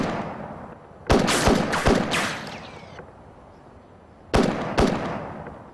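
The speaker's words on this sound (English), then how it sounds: "he fires at the ground." Sharp gunshots from a rifle fired at the ground in an outdoor street setting: a cluster of three or four loud cracks, then a pause and two more close reports, each with a brief echoing tail.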